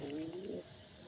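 A pigeon in a home bird enclosure gives a single low, soft coo, close by and faint, with no other sounds around it.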